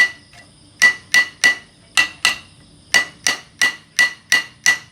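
Sharp metallic hammer strikes driving a bushing during assembly of a Honda PCX motorcycle, about a dozen loud close blows in an uneven rhythm, some in quick pairs, with short pauses between.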